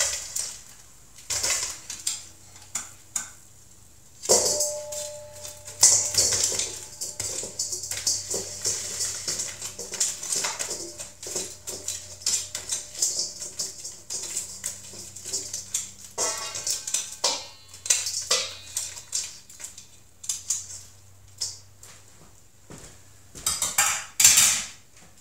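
Chicken wings for Buffalo wings tumble into a large bowl, giving a run of clattering, clinking knocks of food and utensils against the dish, busy and close with short pauses, and no talk.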